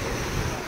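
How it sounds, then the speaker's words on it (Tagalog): Brief, loud rush of sea waves against a seawall during a typhoon in Quezon, with strong wind buffeting the microphone, a steady roaring wash of water. "dagat na yan."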